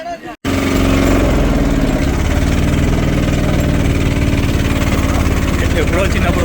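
Auto rickshaw engine idles with a loud, steady, close chugging rumble that starts abruptly and runs on without a break, with wind and outdoor noise around it near the Sangameshwara temple.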